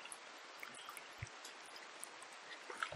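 Rain falling in the video game Rimworld, a faint, steady patter of drops under a soft, even wash of noise, with a few slightly louder drips.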